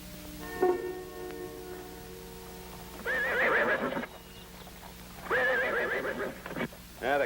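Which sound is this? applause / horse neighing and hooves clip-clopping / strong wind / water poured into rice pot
horse neighing and hooves clip-clopping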